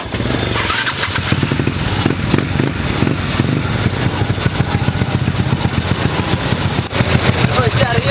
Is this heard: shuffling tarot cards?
no